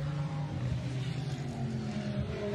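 Hot Wheels toy cars racing down a track, a continuous low rolling rumble that stays steady and fairly faint throughout, with no voices.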